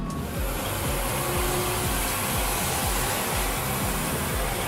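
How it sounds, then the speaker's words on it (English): A hand dryer in a restroom runs in a continuous, even rush of blowing air with a low fluttering hum underneath, without pause at moderate loudness. "and our hand dryer."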